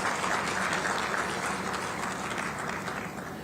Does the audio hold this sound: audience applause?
yes